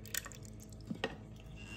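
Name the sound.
pouring remaining milk in to make lassi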